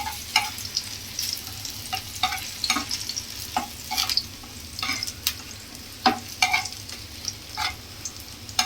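Onion and dried red chilli frying in a pan while being stirred, a soft continuous sizzle broken by frequent sharp scrapes and knocks of the spatula in an irregular rhythm.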